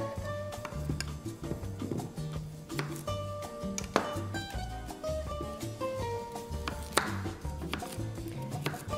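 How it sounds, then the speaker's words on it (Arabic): Rapid, steady knife chops through carrots on a cutting board, close and fairly loud, with music-like tones playing underneath. "تقطيع الجزر حسب قطعه الجزر اللي عندكم وايش مقاسها"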